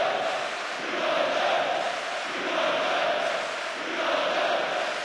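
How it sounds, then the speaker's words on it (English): Stadium crowd in the PES 2009 football video game at a match, a distant swelling roar of cheering fans that rises and falls in slow waves, moderately faint and continuous. "the crowd at fever pitch, lending so much to the spectacle"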